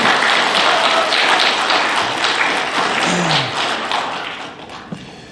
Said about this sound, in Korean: 우리 박수 한번 크게 치면서 시작할까요?